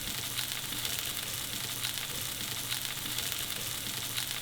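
A pork chop sears in a pan on high heat, giving off a steady, close, even sizzle and fry with no voices over it.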